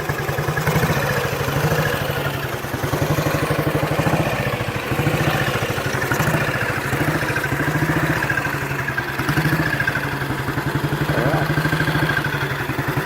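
A 1949 Matchless G3L 350cc single-cylinder motorcycle idling, a steady close rhythmic thump with mechanical clatter, even and continuous with no talk.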